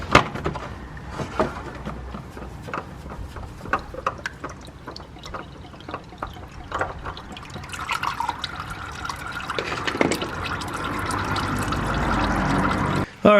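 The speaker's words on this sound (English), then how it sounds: "We're going to put a little bit more oil through just to flush it all out" Fresh engine oil pours into a Mitsubishi Evo's engine for a flush, a steady liquid glug and trickle punctuated by small drips and clinks, growing fuller and louder toward the end.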